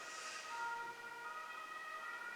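An ambulance siren passes at a distance, its steady wailing tones sounding faint and continuous over low background hum, with no talking.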